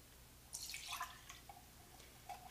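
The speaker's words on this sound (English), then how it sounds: "And then we're gonna pour it into the 2nd can." Liquid custard mixture for an Instant Pot cheesecake flan poured into a second can, a brief faint splashing trickle followed by a few soft drips.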